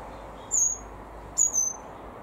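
A red-rumped parrot gives two sharp, high chirping calls about a second apart, the second a quick doubled burst, clear over quiet room background.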